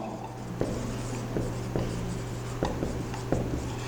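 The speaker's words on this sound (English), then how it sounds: "So here I am going to write" Chalk or marker strokes on a classroom board while writing out notes on convection, a series of short scratchy strokes in an uneven rhythm over a steady low hum, close and moderately loud.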